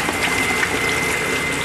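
Waste vegetable oil flows and fans out inside a heated drying tank, a steady close rushing, gushing wash of liquid with no pauses and no voices.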